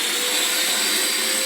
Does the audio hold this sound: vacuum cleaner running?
yes